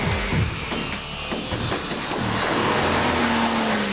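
A BMW 535d diesel car races a V8 toward a finish line, its engine roaring loudly and closely with a rising whine near the end, plus brief tire noise.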